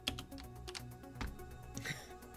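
Quiet, irregular clicking of a computer keyboard as someone types, a steady scatter of soft key taps at close range with no talking.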